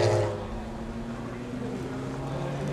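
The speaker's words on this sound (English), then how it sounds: "The Johnny O'Connell Corvette, the 63, is on pit road." Johnny O'Connell's No. 63 Corvette race car rolls slowly down pit road after a downpour during Le Mans, a steady low engine drone with a faint rumbling note, fairly loud and continuous throughout.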